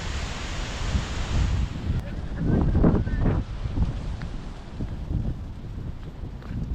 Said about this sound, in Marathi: मस्त वारा बिरा चालू आहे जोमा